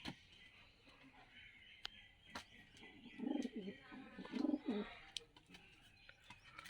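Pigeons coo in a loft housing Karna pura tumbler pigeons and white homers, with soft low coos rising in two clear bursts partway through over faint rustling and a quiet background.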